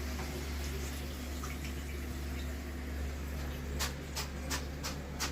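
Crispy homemade fried potato chips are lifted from a frying pan, giving a quick run of sharp crackles and clicks near the end over a steady low hum and soft sizzle.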